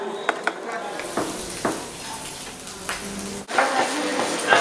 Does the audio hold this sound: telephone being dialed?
no